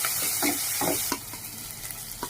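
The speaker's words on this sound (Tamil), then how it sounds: "போட்டு நல்லா வதக்கிக்கணும்" Ingredients with curry leaves stirred and sautéing in a hot pan, giving a steady close sizzle broken by several scraping stirs, with no voices.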